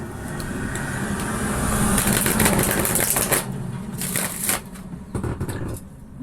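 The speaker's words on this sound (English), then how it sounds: "Give the cards a shuffle." A deck of tarot cards is shuffled by hand, giving rapid riffling and flicking bursts that come in several close runs, loud and near, with quieter pauses toward the end.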